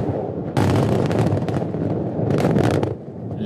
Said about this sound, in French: Il faut bien les faire, ces explosions.